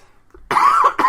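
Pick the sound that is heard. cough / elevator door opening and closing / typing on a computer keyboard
cough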